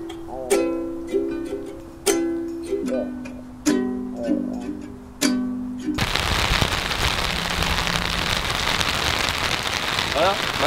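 Evening rain begins in Tokyo: after a stretch of sparse, ringing metallic taps and tones, a sudden dense hiss of rain on a surface takes over, steady and close for the rest of the stretch.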